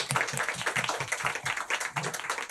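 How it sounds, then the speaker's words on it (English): An audience at a panel event applauds the panelists, a dense, steady round of hand clapping with a rhythmic pulse, fairly close and sustained, with no talk over it. "So let's have one more round of applause for all of our panelists."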